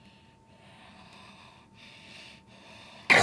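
Heavy, breathy huffing and wheezing made by a voice imitating laboured breathing, steady for about three seconds, then a sharp loud burst at the end.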